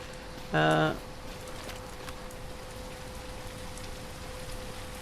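In the survival video game SurrounDead, rainfall hisses as a soft, steady wash across the whole stretch, with a brief tonal blip near the start and nothing else standing out.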